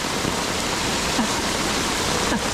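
Floodwater rushing down a swollen river makes a steady, loud broadband roar that stays even throughout, with no distinct events and no talking.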